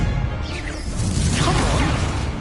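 A Confringo blasting spell cast in Hogwarts Legacy swooshes out with a sharp burst, followed by a second rushing whoosh and crackling impact over a low rumbling background, loud and close, with no talk.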